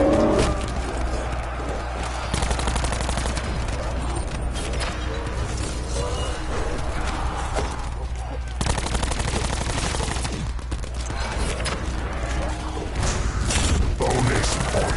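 Rapid, dense gunfire from Call of Duty Black Ops 4 Zombies rattles almost nonstop, with bursts of automatic fire and a few heavier booms layered over a steady low rumble.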